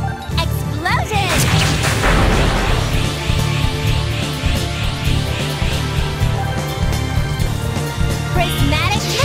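A loud explosion spell from the PlayStation 2 game Valkyrie Profile 2: Silmeria, a dense rumbling blast with crashing bursts and whooshing sparkles, layered over steady battle music for several seconds.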